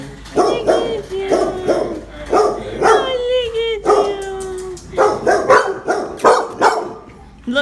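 Several dogs barking at an animal shelter, repeated close loud barks and yips with a drawn-out whine or howl in the middle, continuing throughout.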